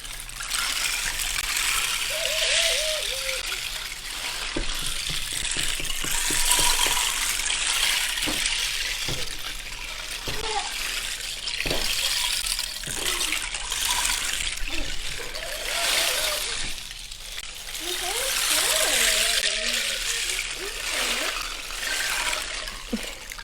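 An ocean or rain drum, a handheld rain disc, is tilted back and forth, giving a continuous rushing, pattering hiss of rolling beads that swells and fades in long waves, with faint voice-like tones and no clear talk.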